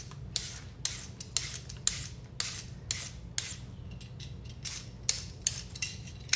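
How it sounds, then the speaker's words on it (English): A knife or peeler strokes carrots for soup in a home kitchen, producing a regular series of sharp scraping cuts over a low steady hum, close and clear. "You can watch as I peel and cut."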